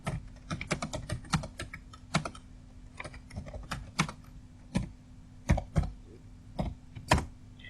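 A computer keyboard being typed on to enter text into an Excel cell gives close, crisp key clicks in irregular bursts, fast at first and then slower, over a faint steady hum.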